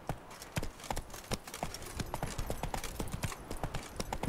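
Roach, a horse in The Witcher 3 on Xbox One X, clip-clops steadily with hoof strikes in a quick, even rhythm, fairly close and moderately loud, with no talking over it.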